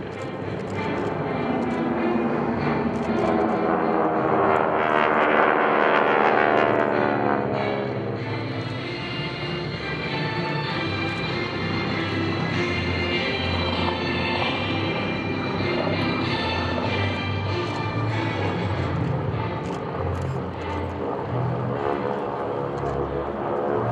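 Military jets roll into a high-angle spiral strafing pass at an airshow, a loud continuous engine roar that swells and fades as the aircraft sweep past overhead.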